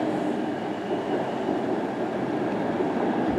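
A train with locomotive 82105 at the rear rolls into a tunnel at Ipswich on the Great Eastern Main Line, giving a loud, steady, continuous rumble with no break.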